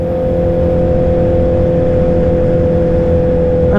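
A motorcycle engine drones steadily and loudly at cruising speed on a morning ride to work, with a constant low hum and wind rush and no variation or talk.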